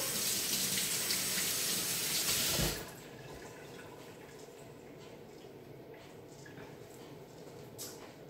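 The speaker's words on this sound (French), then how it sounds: "On se lave les mains, comme toujours." Tap water runs loudly into a sink in a home kitchen as hands are washed, a steady hiss that cuts off after a few seconds, leaving quiet room noise and faint clatter.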